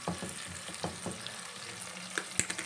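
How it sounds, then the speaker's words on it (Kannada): Onions fry in a pan for a capsicum, tomato and potato curry, a brief close sizzle broken by a few quick stirring scrapes and taps, with no speech. "ಈರುಳ್ಳಿ ಎಲ್ಲ ಚೆನ್ನಾಗಿ ಫ್ರೈ ಆಗಿದೆ."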